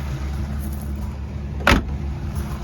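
Carburettor-rebuilt engine of a 1951 Kaiser Deluxe idling at a steady low rumble, interrupted by a single short sharp clunk partway through.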